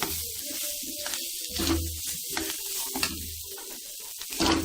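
Homemade masala is tipped into a hot pan of vegetable filling for a Frankie roll and stirred, giving a close, steady sizzle broken by scraping strokes of the spoon.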